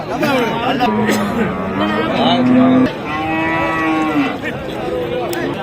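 Cattle and bulls at the Oddanchatram livestock market in Tamil Nadu low repeatedly, several drawn-out moos fairly close over a background of crowd chatter and people talking.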